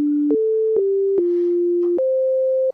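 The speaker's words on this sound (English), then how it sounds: "Sine wave." A Microkorg synthesizer plays a pure sine wave oscillator tone, stepping through several steady sustained notes in a short melodic sequence, loud and clean with soft clicks at each note change.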